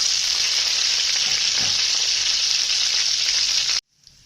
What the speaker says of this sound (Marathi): दोन चमचे तेल टाकून घेते त्याच्यात टाकले बघा त्याच्या दहा बारा लसणाच्या पाकळ्या ठेचून टाकल्या आता याचा चांगले लाल करून घ्यायचा